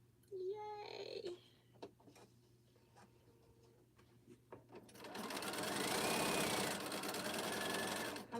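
A sewing machine joins fabric pieces for a quilt, running in a loud, steady, close burst of rapid mechanical ticking during the second half, after a brief high voice and scattered clicks at a quieter start.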